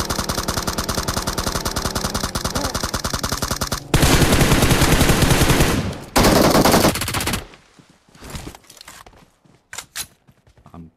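Gunfire in the PUBG battle game: sustained rapid automatic bursts, then a louder dense volley of shots, followed by scattered single shots and quieter clatter, close and loud without talk.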